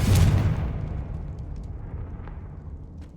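A Confringo fire spell explodes in the video game Hogwarts Legacy, a loud booming blast up front that rumbles and fades away over a few seconds.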